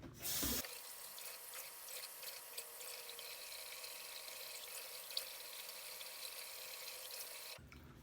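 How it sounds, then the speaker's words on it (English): Tap water runs steadily into a bathroom sink while someone rinses their face after a shave, a continuous splashing wash lasting several seconds with a louder burst at the start and no talking. "I tend to make a huge mess when I am rinsing my face off"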